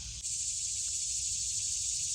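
Cicadas drone outdoors in one unbroken, high, steady buzz that stays even from start to finish with no other sound.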